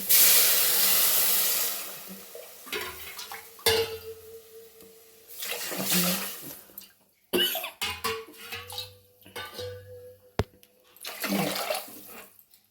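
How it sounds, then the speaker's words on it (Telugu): Water pours from a glass over rice in a pot for khichdi, arriving in several separate splashing bursts with pauses between them, fairly close and moderately loud, with no talking. "ఒక గ్లాస్ రైస్కు గ్లాస్ సగం వాటర్ పోస్తాం"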